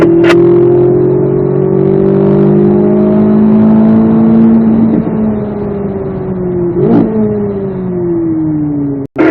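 A Corvette Z06 accelerates hard in fourth gear on a race track, its engine note rising steadily and loud and close, with a brief dip and shift-like change partway through.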